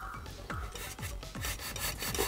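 Rhythmic rasping strokes of 220-grit sandpaper work a seam on a 1/60 Perfect Grade Gundam plastic model, about eight close, even back-and-forth scrubs, with no talking.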